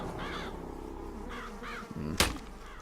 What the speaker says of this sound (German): Was ist hier? Wieder ein Rabe.